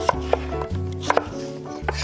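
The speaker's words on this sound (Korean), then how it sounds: "양파도 써시는데 이렇게 반 썰어서 큼직하게 썰으세요" Knife chopping onion on a cutting board while cooking curry rice, several crisp separate chops spaced at an uneven rhythm, close and clear with no talking.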